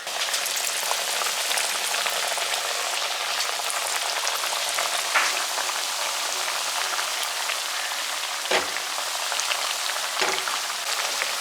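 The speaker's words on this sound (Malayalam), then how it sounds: "നമ്മൾ ഇട്ടേക്കുന്ന ആ പരിപ്പോടെ എണ്ണയിൽ ഫുള്ള് തന്നെ ഇങ്ങനെ മുങ്ങി കിടക്കാനായിട്ട് ശ്രദ്ധിക്കണം കേട്ടോ" Parippu vada lentil fritters deep frying in oil, a dense, steady sizzle and crackle heard close up and alone, with a couple of brief clinks partway through.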